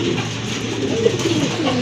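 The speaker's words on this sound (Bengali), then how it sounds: "খুবই খুবই চমৎকার আরেক জোড়া কবুতর, খুবই ইউনিক কবুতর, দেখার মতো কবুতর।" Pigeons at a pigeon farm coo in soft, repeated low throaty calls, close by and fairly loud over a dense background murmur of more birds, with no talking.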